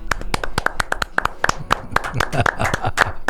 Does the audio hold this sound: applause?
yes